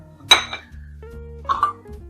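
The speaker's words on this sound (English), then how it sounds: "I'm using these little tiny baking dishes." Small baking dishes are handled while preparing banana bread for a toaster oven, giving two short clinks, a sharp one near the start and a softer pair later, over a faint low hum.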